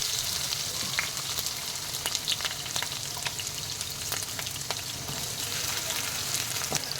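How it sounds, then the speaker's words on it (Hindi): Capsicum sizzling lightly in a pan for a vegetable korma, a steady close frying hiss with scattered small pops and the occasional stir, no voices. "इसको भी हल्का सा फ्राई करना है।"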